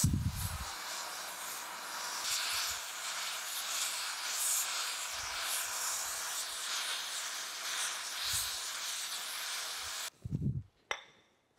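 A steady, loud hiss from a torch working on weld inside an old sugar cane mill during restoration runs for about ten seconds, with a few dull knocks underneath, then stops into near silence.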